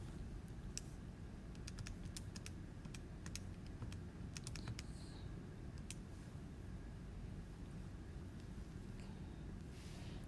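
Numbers keyed into a calculator while solving an algebra problem make scattered light clicking taps over a faint steady hiss, with no speech.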